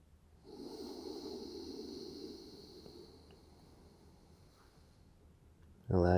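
Slow, steady yoga breathing, a long drawn breath holding for several seconds and then fading, with a sharp louder burst of sound at the very end.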